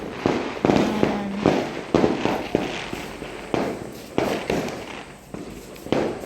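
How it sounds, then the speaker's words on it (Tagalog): New Year fireworks and firecrackers explode outdoors in a rapid irregular string of loud sharp bangs, some close and some farther off, each followed by a short crackling decay. "Ang ingay na ng mga fireworks."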